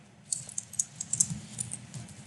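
Java code being typed on a computer keyboard: a quick, uneven run of about a dozen crisp key clicks, close up and with no one speaking.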